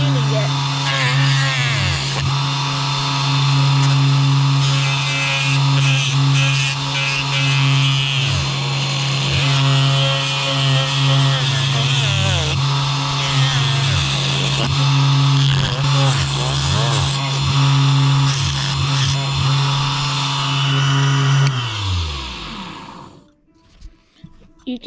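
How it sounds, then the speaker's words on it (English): A VEVOR mini lathe runs at high speed while a workpiece is sanded, a loud steady motor whine with scratchy, uneven sanding rasps over it for about twenty seconds before the machine winds down and stops. "When you've got it to a good shape, you can start sanding it."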